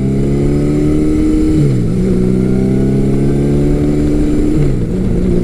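A Yamaha XJ1100 Maxim motorcycle runs on the road with its engine droning loudly and steadily, its pitch climbing and then dipping sharply twice at gear shifts.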